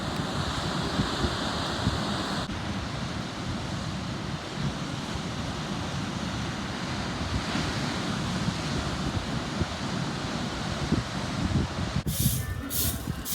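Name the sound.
sea waves on Fuerteventura coast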